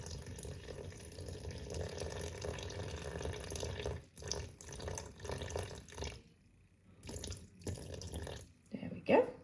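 Water poured into a container on kitchen scales while weighing 300 millilitres for bread dough, a faint splashing trickle with pauses and small clatters, quiet and close.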